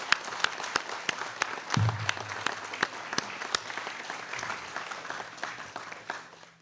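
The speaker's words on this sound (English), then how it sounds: "Let's all give them a round of applause" Applause for military recruits at a high school military recognition ceremony: steady clapping from a moderate crowd, sharp individual claps standing out, continuing for several seconds with a brief low thump partway through.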